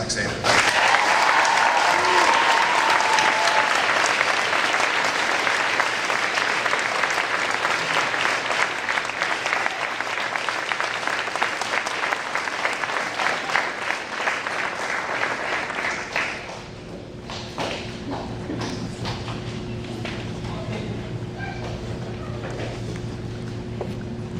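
An audience applauds a Grade 8 valedictorian named Rohan at a graduation ceremony, steady sustained clapping from a large crowd that thins out toward the end.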